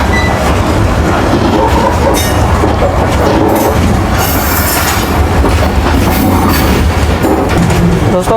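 Cheap passenger train running on rails in rural Sindh, Pakistan, heard from on board as a loud, continuous rumble with rhythmic clickety-clack and occasional wheel squeal and clanks.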